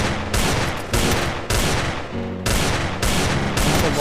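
Loud gunshots crack repeatedly in a team-versus-team shooting video game match, arriving in a steady, rhythmic series of heavy, close shots spaced about half a second apart with dense, booming reports.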